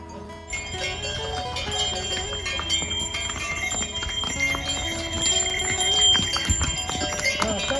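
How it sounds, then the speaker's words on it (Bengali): Bells tied on the necks of donkeys and horses jingle steadily over a busy outdoor bustle on the Kedarnath Yatra trekking route at night, hooves clip-clopping, continuous and fairly loud, with voices mixed in. "গাধার ঘোড়া গলাতে ঘন্টা বাঁধা আছে"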